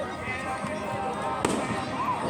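Fireworks at a spectacular show crackle and rumble at a distance, with one sharper bang standing out above a continuous dense backdrop of bursts.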